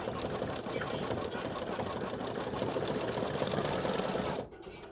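An embroidery machine stitches a test design of crescent moon, stars and flowers in light colors with a steady rapid whirring chatter, then stops abruptly near the end.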